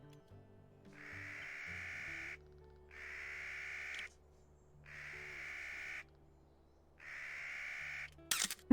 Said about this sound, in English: That bird in the background.